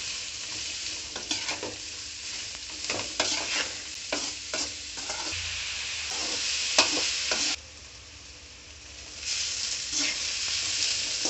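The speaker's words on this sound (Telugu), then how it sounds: "వెంటనే అరకిలో ఉల్లిగడ్డలు తరిగి పెట్టుకొని ఇప్పుడు వేసేసుకుందాం. వేసుకున్నాక కలుపుకుందాం." Half a kilo of chopped onions fry in a pan under a steady sizzle, while a spoon scrapes and stirs through them in repeated clattering strokes. The sizzle dips briefly and then comes back.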